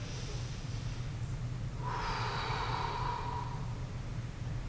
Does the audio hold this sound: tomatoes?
no